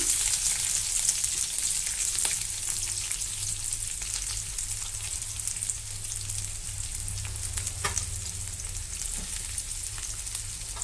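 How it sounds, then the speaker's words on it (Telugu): Chopped onions fry in hot oil for a bitter gourd (boda kakarakaya) curry, giving a steady, close, dense sizzle with faint crackles throughout and no talking. "ఆయిల్ వేడెక్కింది ఇప్పుడు కొంచెం ఇందులో ఆనియన్స్ వేసేసుకుంటున్నా"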